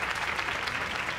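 A crowd gathered to welcome a guest claps in a short, dense wash of applause, steady and fairly loud through a brief moment.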